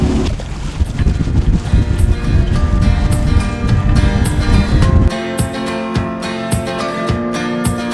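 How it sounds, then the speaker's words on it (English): A boat motor drones loudly while the hull slaps and thumps through choppy wakes from passing boats near Palm Beach, Florida, and wind rushes across the microphone. "It's only rough because of the other boats, the speed boats and fishing boats that are going by us."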